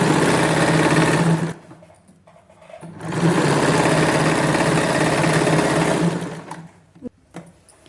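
A sewing machine runs two long bursts as it stitches the inner seam of palazzo pants, steady and close, with a short pause between runs and a few clicks at the end.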